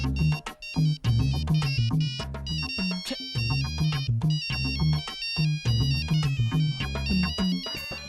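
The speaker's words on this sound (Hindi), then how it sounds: "कंजूस फोन उठाता ही नहीं है।" A mobile phone ringtone plays a bright repeating melody over and over, loud and close, as the call goes unanswered in a dubbed action film scene.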